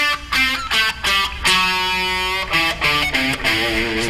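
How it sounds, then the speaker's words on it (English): Distorted electric guitar plays a rock run through the full minor pentatonic scale with the added Dorian sixth, a continuous stream of sustained, driven notes with brief gaps, loud and close with no talking. "if you do the full pentatonic scale with the Dorian note"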